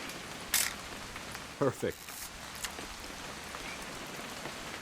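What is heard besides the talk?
rain in the video game What Remains of Edith Finch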